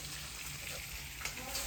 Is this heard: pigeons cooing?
no